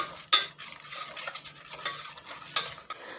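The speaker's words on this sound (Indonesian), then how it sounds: "Bahan krimnya ini saya aduk terlebih dahulu." Cream mixture for kue talam being stirred in a bowl, a utensil scraping and clinking against the sides in quiet, uneven strokes with a few sharper knocks, close up and with no talking.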